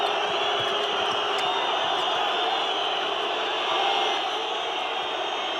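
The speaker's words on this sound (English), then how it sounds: "And the crowd more vociferous than ever now." A packed handball arena crowd at the EHF Euro 2012 Serbia v Sweden match keeps up a steady, loud roar of cheering and whooping throughout, swelling briefly near the end.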